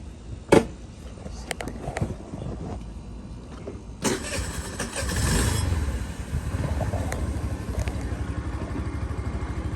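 A 2022 Icebear Rocket 50 automatic scooter engine starts up after a few clicks and knocks, then runs with a steady low buzzing idle that continues to the end.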